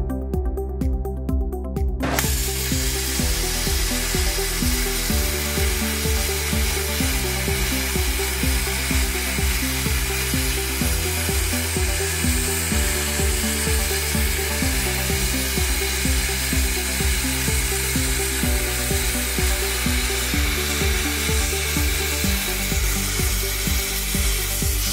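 A Hồng Ký CUT100PRO plasma cutter slices through 30mm thick steel with a loud, steady roaring hiss and a rapid pulsing drone that continues unbroken for the whole stretch.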